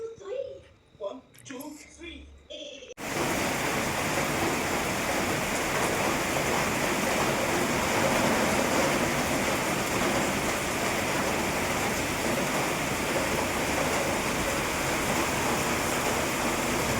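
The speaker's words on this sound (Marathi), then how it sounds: "आमच्याकडे बाहेर मस्त असा पाऊस पडत होता" Steady rain falls outside, a dense even hiss that fills most of the stretch after a voice and other brief talk at the start.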